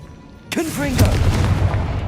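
Sudden booming blast of a Confringo fire spell in the Hogwarts Legacy video game, a sharp burst followed by a crackling rumbling tail and whooshing tones, loud and close.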